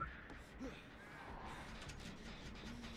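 Crows caw faintly in the horror game Dead by Daylight, a couple of brief calls over a low, murky ambient drone.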